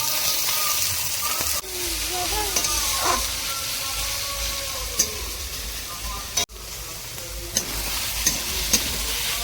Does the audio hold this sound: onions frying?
yes